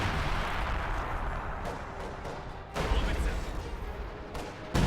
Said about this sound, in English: LEFH bombards the area though, prompting a retreat from that rifle squad.